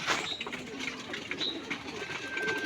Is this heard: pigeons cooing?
yes